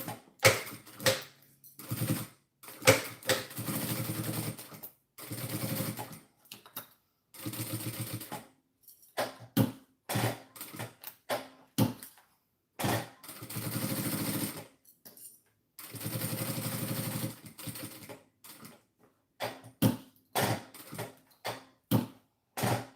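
A sewing machine stitches a zipper pouch made from fabric scraps, running in loud, rapid mechanical bursts separated by short pauses, with stops and starts throughout.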